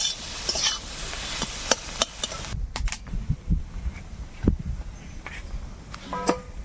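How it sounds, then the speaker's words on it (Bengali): Potatoes frying in a pan with turmeric powder, stirred now and then, giving a soft sizzle broken by scraping and clattering stirs, with faint household noise in the background. "হলুদ গুঁড়ো দেবো এইভাবে একটু আলুটাকে ভেজে নিই"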